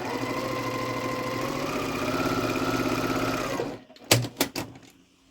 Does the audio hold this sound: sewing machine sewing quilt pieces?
yes